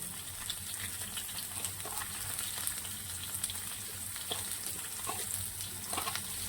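Potatoes fry in oil in a pan, giving a continuous soft sizzle with small crackles and pops scattered throughout, with no talking.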